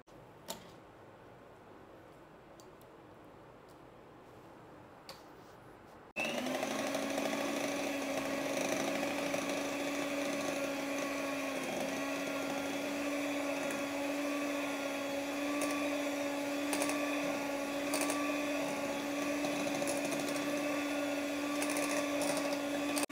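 An electric beater starts abruptly after a quiet stretch and keeps whipping a cream mixture for butterscotch ice cream in a village kitchen, with a loud, steady motor whine and a faint rattle for the rest.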